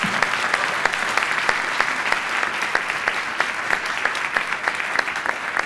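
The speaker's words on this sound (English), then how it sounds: "another big round of applause for our participants" Audience applause for the participants at a FameLab Ireland science-communication final, a dense, steady burst of clapping from a large crowd that fills the room evenly without voices.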